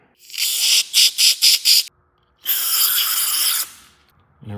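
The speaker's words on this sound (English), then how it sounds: "Just make sure any holes in here, spray them out." Bursts of aerosol cleaner sprayed into a snowblower carburetor, first a run of five short quick puffs, then one long continuous hiss, close and loud.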